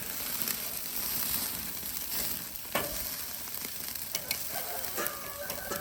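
Chicken halves sizzle steadily on a Weber kettle grill as they are shifted to the cool side, with a few sharp clicks and scrapes from the moving pieces over the constant frying hiss.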